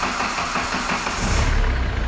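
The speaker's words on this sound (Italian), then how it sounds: "frizione, metti in moto." A Kia car engine cranks and catches with the clutch pressed during a battery and alternator test, a rough broadband whirr swelling into a deeper, throbbing idle near the end, close and loud.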